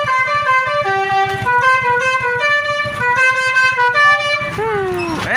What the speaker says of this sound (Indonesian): di depan sudah terdengar suara Basuri dari bus